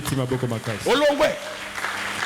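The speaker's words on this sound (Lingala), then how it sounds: "Acclamons très fort pour le roi." Congregation in a church during a sermon applauding and cheering for the king, beginning with raised voices and shouts that give way to a steady wash of clapping, moderately loud and filling the room.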